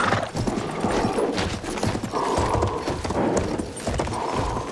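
Horse galloping in the video game Battlefield 1, a rapid continuous patter of hooves at close range, mixed with rumbling background noise and no talking.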